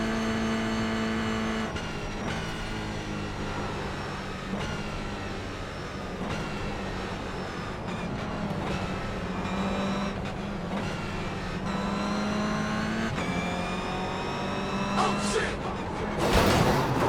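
A steady roar of racing car engines in the iRacing sim at Ringmeister, several cars whining and shifting gears together continuously in a close train, with a brief louder burst near the end.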